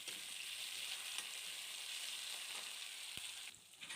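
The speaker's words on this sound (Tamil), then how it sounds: "வெங்காயம் சீக்கிரம் வணங்கி வந்துடும்" Onions with curry leaves and salt sauté in oil for sundakkai kulambu. The frying hiss is soft and even, with a single click near the end before the sizzle abruptly drops away.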